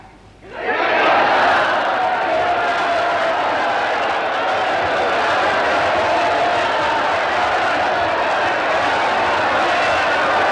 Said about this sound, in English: Right, cheer!